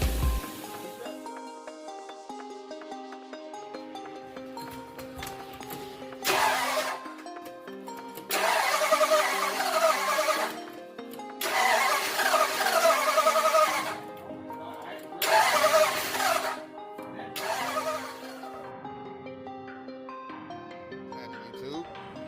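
A swapped 5.3 LS V8 with a 4L60 transmission, fitted in place of the flathead V8 in a 1946 Ford truck, runs rough, surging in several loud bursts over an uneven idle while a person talks nearby.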